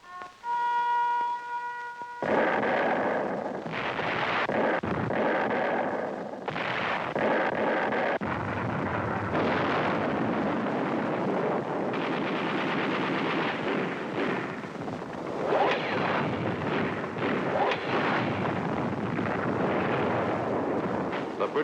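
Wartime archival artillery fire from the attack on the Mareth Line, heard as continuous rumbling booms and blasts layered with crackling gunfire. After a brief tonal note at the start, the barrage stays loud and dense throughout.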